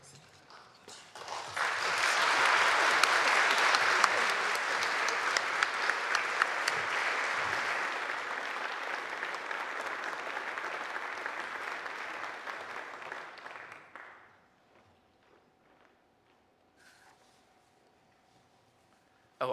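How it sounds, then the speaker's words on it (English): An audience at a General Synod session applauds a newly elected Prolocutor of the Convocation of Canterbury, a broad sustained round of clapping that swells quickly, holds for about twelve seconds, then fades to near silence. "please greet her with a round of applause, but you've done that"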